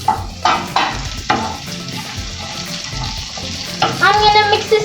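Onion and egg frying in a pan while being stirred, a close, steady sizzle broken by repeated scraping stirs of a utensil against the pan, with no talk.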